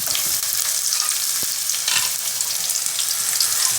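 Cumin, coriander and chopped green chilies fry in a pan, a loud dense crackling sizzle with brisk stirring scrapes, close up and without voices.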